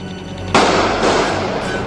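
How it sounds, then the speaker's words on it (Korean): A single loud gunshot cracks out of a quiet afternoon background in Nairobi, Kenya, during an armed attack on a shopping mall, and leaves a lingering, echoing rumble. "이 평화로운 오후에 정적을 깨는 총소리"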